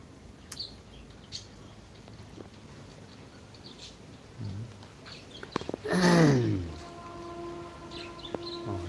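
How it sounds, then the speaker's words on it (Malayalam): A train passes in the distance with a swelling rush and a drawn-out horn, while birds chirp intermittently nearby. "ട്രെയിൻ പോകുന്ന സൗണ്ട് കേൾക്കുന്നില്ലേ"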